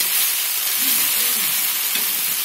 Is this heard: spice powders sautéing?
yes